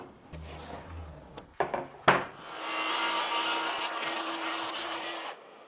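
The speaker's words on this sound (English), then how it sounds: "we're just gonna do the last little bit here with a handsaw" A handsaw works through rain-soaked wood under tension, giving a few sharp knocks and scrapes before a steady, close rasping stroke that runs for several seconds and then stops.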